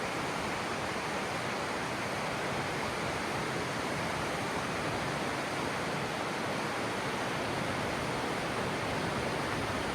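Gorge Creek in the North Cascades rushing steadily, a continuous broadband roar of flowing water, close and unchanging throughout with no voices.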